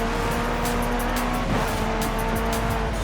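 Racing car engine in Forza Horizon 5 driving hard, a steady loud drone with tonal whine and occasional tire squeal, continuous throughout.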